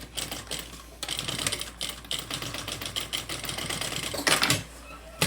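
A sewing machine stitches a school backpack in quick rattling bursts, running and stopping several times with short pauses between, close by and clear.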